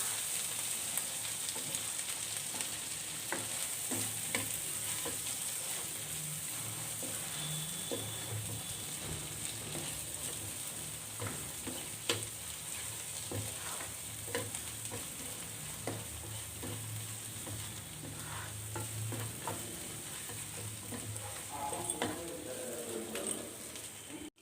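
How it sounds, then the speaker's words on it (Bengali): Chopped tomato frying in a pan for a thin curry of local chicken, a steady soft sizzle with frequent scraping and clinking stir strokes throughout, close and continuous, with no voices. "টমেটোটাকে ভালোভাবে সাথে একটু ভেজে নেব।"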